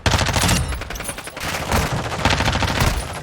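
Rapid, close bursts of submachine gun fire ring out in a Modern Warfare 2 firefight, dense overlapping volleys with brief gaps between them.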